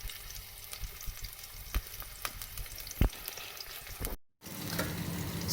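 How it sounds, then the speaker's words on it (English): Onions fry in warm oil for a paprika tomato sauce, giving a close, steady sizzle with scattered crackles and stirring scrapes, a brief silent gap, then the sizzle resumes. "and we start the process of frying the onions."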